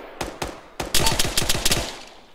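Bursts of machine gun fire ring out in a military video game, a few single shots followed by a rapid rattling volley, loud and close with no talk over it.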